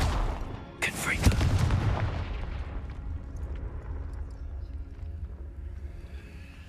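Casting the Confringo blasting curse in Hogwarts Legacy sets off a sudden explosive burst that booms briefly, then trails into a long, fading rumble.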